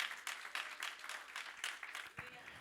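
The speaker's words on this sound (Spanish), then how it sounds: "Dale palmas al Señor." A church congregation claps and applauds during a sermon, a dense, steady patter of many hands filling the whole moment, fairly soft and distant.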